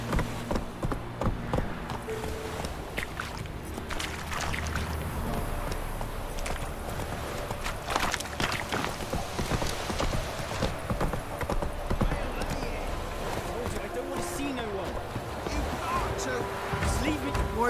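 A horse's hooves clip-clop steadily through the Witcher 3 game world, a continuous rhythmic gallop running the whole stretch, with an occasional whinny and voices talking over it.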